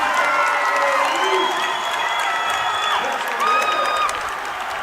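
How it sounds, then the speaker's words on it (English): High school basketball crowd in a gym cheering and shouting after a layup in a Pinkerton at Portsmouth game, loud and sustained throughout. "It's got this crowd fired up."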